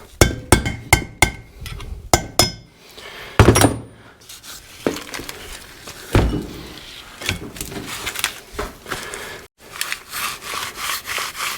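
Parts of a Hitachi EX120-2 excavator swing device are struck with a makeshift tool in place of a ball peen hammer, giving a quick run of sharp knocks followed by irregular scraping and rubbing, close and loud.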